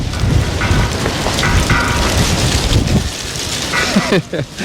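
Gusty wind buffets loudly and continuously in the Spanish town of Besalú, roaring with rough surges before easing slightly toward the end.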